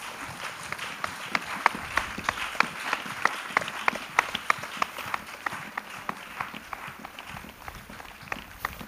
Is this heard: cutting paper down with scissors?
no